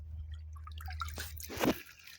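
Boots wade into lagoon water at Central Mosquito Lagoon, giving a few close wet squelches and a sharper splash near the end over a low background hum.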